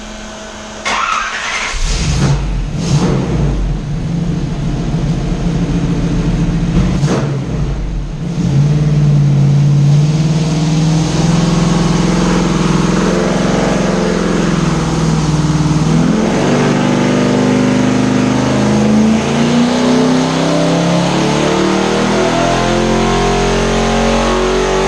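Car engine fitted with cheap eBay fake ram horn exhaust manifolds and a 2-inch collector, revving hard from a rough idle up to a loud sustained high-rpm roar, close and continuous with no talk.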